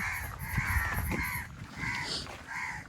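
Crows caw from a tree on an island near Maithan, about five harsh calls in an even rhythm over a low rumble of background noise, moderately distant.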